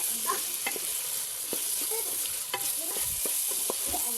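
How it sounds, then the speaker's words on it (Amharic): Potatoes and carrots fry in oil in a pot with an even, close sizzle, broken by repeated scraping and clinking from a spoon as the vegetables are stirred. "ዘይቱን ጨምረን በዘይት የተወሰነ እናበስለዋለን ወይም ደግሞ ጥብስ እናደርገዋለን"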